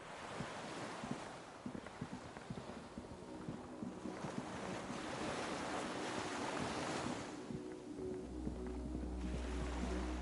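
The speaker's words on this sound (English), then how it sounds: "The skiff is swaying on the waves." Steady ocean waves wash around a small wooden skiff swaying on the water in a detective role-playing game, with continuous surf and wind rumble at moderate level and no voices.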